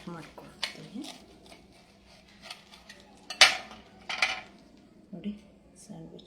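A knife cutting through a roasted vegetable sandwich on a plate, with scattered clinks and scrapes of metal on dishware, interspersed with a person talking nearby.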